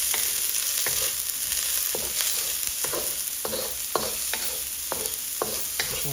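Peas, carrots and shallots stir-fried in a very hot wok, giving a steady loud sizzle broken by repeated scraping, tossing strokes of the spatula about every half second.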